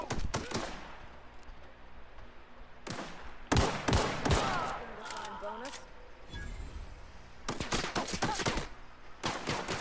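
Video game gunfire erupts in sharp bursts of rapid shots separated by pauses, loud and close, with a player talking excitedly in between.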